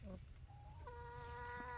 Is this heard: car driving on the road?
no